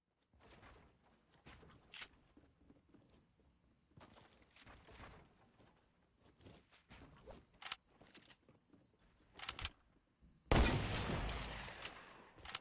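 Tommy gun hip fire in the video game Fortnite, scattered quiet shot bursts and footsteps building to a loud rapid burst near the end.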